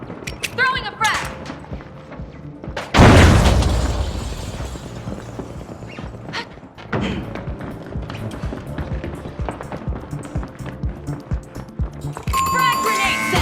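A frag grenade thrown and detonating in the arena shooter The Finals, a loud broadband blast erupting about three seconds in and trailing off, set among constant gunfire, footsteps and game effects with commentator-style talk nearby.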